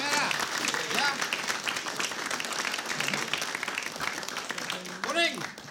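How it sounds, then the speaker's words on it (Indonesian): A studio audience at a comedy quiz show claps together in a dense, steady patter, with voices calling out and talking over the applause throughout. "Ya, kasih tepuk tangan"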